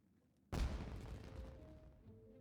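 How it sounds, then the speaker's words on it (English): A single firework blast in the Genshin Impact video game bursts abruptly, then trails into a long rumbling decay with faint crackle, loud and alone without speech. "Was that an explosion? It sounded like fireworks."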